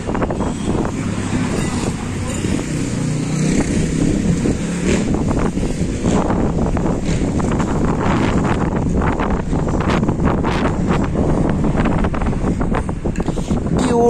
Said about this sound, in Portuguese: Meio vento.